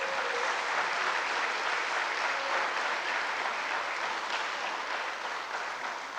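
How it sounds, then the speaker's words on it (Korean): Sustained applause from a church congregation at a Sunday gathering in Daegu, a steady dense wash of many hands clapping for the full stretch without a break. "여러분 종규 형제, 윤동희 형제한테 박수 한번 보내주세요."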